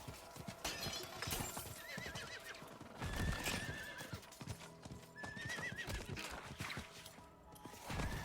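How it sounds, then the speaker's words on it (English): Steady clip-clop of a horse's hooves walking at an even pace in Diablo 4, joined by a couple of horse whinnies, with faint creaks in the background. "My horse is walking for some reason."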